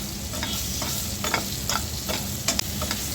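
Potatoes frying in oil in a home kitchen, chicken cooking alongside, a constant close sizzle broken by quick scraping stirs and small clinks of a spatula.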